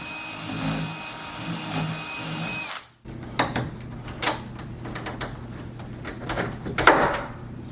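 A power drill with a big bit bores into a door, whirring steadily, then stops briefly and restarts in uneven bursts with knocks and clicks, close up and fairly loud.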